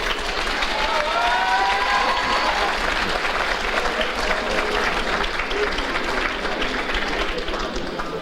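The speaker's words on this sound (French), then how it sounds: "vous méritez nos applaudissements" Sustained audience applause at a university IUT graduation ceremony in Le Mans, a dense steady wash of many hands clapping, fairly loud and continuous throughout, with faint murmurs and a few whistles mixed in.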